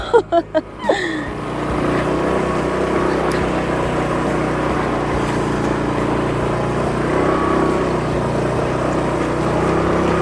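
A motorbike ridden along a remote mountain valley track gives a steady, loud engine drone throughout, after a few sharp knocks at the very start.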